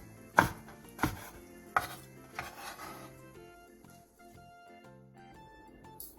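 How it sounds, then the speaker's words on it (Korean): A knife chops washed aged kimchi on a cutting board: three or four distinct, close thuds at an unhurried pace, followed by softer scraping and faint background tones, with no talk. "씻은 묵은지를 2cm 정도 길이로 잘라 한 줌 준비해주세요."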